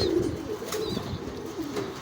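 Young racing pigeons in a loft coo softly and continuously, low throaty calls rising and falling close by with no talk over them.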